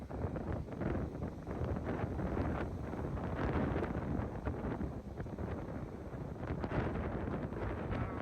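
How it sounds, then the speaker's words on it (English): Strong winter wind near Lake Michigan gusts around a chicken coop, buffeting the microphone with a continuous loud rushing roar that never lets up. "So we get the most insane wind."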